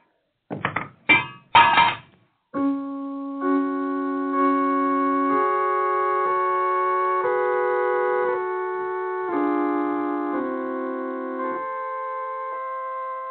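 A heavy bed is set down over a pit in a radio drama, heard as a few close, loud wooden thunks in quick succession, followed by sustained organ-like music.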